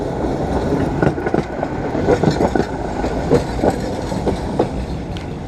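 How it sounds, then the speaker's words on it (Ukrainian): A tram rumbles past steadily in Dnipro, Ukraine, wheels clicking rhythmically over track joints, loud and close with a constant low roar. "Трамвай номер 19"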